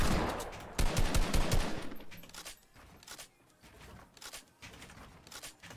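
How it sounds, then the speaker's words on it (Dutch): Sniper rifle shots in a video game, a loud cluster of sharp cracks near the start followed by scattered, fainter single shots spaced out across the rest of the clip. "deze man die schiet een partij snijperkogels, dat is niet normaal"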